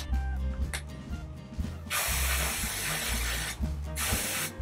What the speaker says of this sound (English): It can't hurt to spray paint that too.